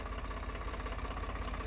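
A Swaraj 855 4x4 tractor's diesel engine runs steadily at about 1500 rpm, a continuous low rumbling drone with a fast regular throb, fairly faint and without talk.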